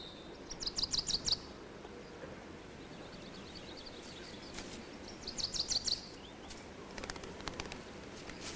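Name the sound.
small birds chirping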